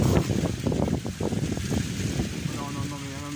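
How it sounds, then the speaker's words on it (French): Strong gusting wind roars across the microphone during a violent thunderstorm, loud buffeting bursts with a voice briefly exclaiming under the noise. "Oh le vent."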